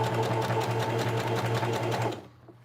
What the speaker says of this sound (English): that's how I'm creating the 2 stitch lines, by using the foot on the sewing machine